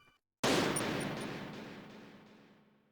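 Gunfire in the Metal Gear Solid video game, a single loud blast after a brief silence that rings out into a long reverberant tail and fades slowly, with no speech.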